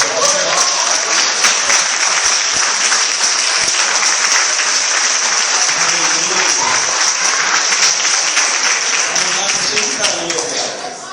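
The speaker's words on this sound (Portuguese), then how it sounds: "Agora eu queria que você desse uma salva de palmas para Jesus." A church congregation claps for Jesus during a sermon, a long, steady wash of many hands applauding together, full and even before easing slightly at the end.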